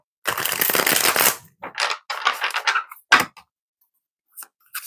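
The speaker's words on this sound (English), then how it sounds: "let me shuffle one more time" Tarot cards being shuffled, with a sustained riffling burst and then several shorter papery bursts of card handling, close and fairly loud, with silent gaps between them.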